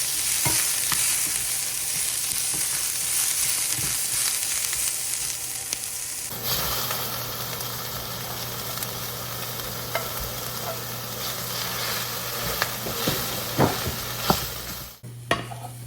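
Eggs and bell pepper frying in a pan while being stirred: a steady close sizzle with scraping and clinking of the utensil throughout, no talking.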